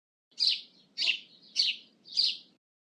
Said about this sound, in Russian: Воробей.